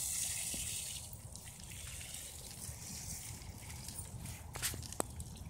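Water hisses and sprays steadily from a garden hose, with a few brief splashes and knocks near the end.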